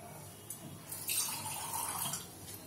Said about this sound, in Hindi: थोड़ा सा पानी डालेंगे हम।